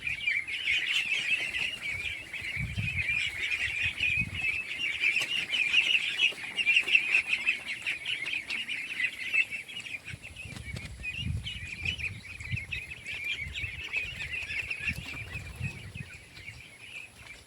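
Ducks and chickens in a duck pen on a small poultry farm make constant high chirping and chattering, with bursts of wing flapping and soft low thumps of movement at close range.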